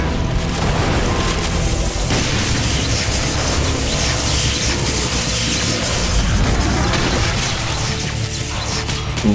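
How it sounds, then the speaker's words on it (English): Enemy gunfire and explosions rage without letup in Doom 2 with the Project Brutality mod, on the Dead End map: loud, dense booms and crashing impacts pile over one another with no pause or voices. "It's so hard to evade all of the enemy fire right here"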